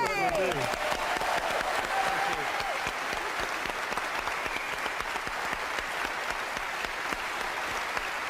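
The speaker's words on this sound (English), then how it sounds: "they need a round of applause" Studio audience at a live show in Edinburgh breaks into sustained applause, dense clapping filling the room after a brief voice at the start.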